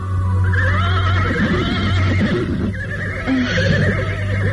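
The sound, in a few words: horse neighing, audio drama effect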